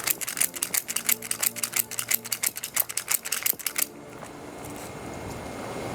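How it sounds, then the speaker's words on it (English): A ratchet strap's handle is cranked quickly to cinch cargo down, giving a fast series of sharp metallic clicks for about four seconds, then stopping and leaving a faint hiss. "And then you'll just simply start ratcheting."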